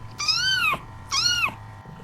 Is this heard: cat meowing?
yes